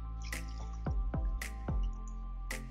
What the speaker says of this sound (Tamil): இது கூட சன்னா வேக வைக்க தேவையான அளவு தண்ணி ஊத்திக்கலாம்.